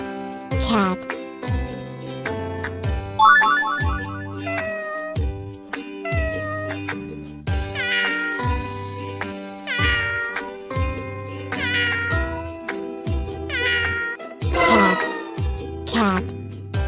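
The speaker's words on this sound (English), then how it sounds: "Cat." A cat meows repeatedly in a series of loud, drawn-out calls, with short pauses between them and faint chiming tones in the background.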